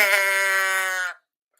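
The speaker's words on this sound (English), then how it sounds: "the sheep, the unidentified ungulate was not very enthusiastic about Carol on that first go round" A single sheep lets out one long, close, quavering bleat lasting about a second, then falls silent, with only a faint sound near the very end.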